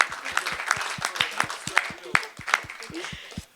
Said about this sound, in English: Can we have a round of applause for the beautiful venue we are in?